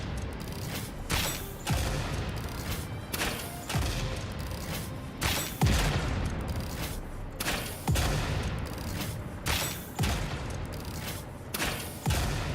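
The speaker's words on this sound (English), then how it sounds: "I'll blow it up with my gun." Repeated bursts of gunfire from a weapon in the video game Satisfactory, fired to blow up a bush, each sharp crack blooming into a booming explosion, loud and close, recurring roughly every second or two over a continuous rumble.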